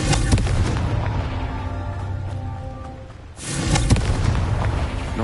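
Two fiery blasts from the Confringo spell in Hogwarts Legacy: a loud crackling burst that fades into a low rumble, then a second burst that swells and crackles again.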